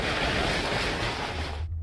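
Hurricane Irma's winds roar past outside a window as a steady, loud broadband rush with surf-like wash, cutting off abruptly near the end to leave a low rumble.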